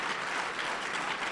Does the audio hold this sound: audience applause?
yes